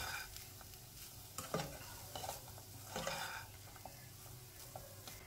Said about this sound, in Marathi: आपल्या नारळाचा चव छान इथे परतून राहिला आहे।